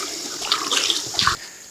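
Creek water pours and splashes from a net lifted out of the stream, a short close burst of streaming and dripping that tapers off.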